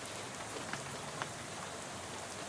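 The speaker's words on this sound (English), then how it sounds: "How about this rain, huh?" Steady rain falls in the video game Shadows Over Loathing, a soft, continuous hiss with scattered faint drops ticking on a surface, quiet and uniform with no talk.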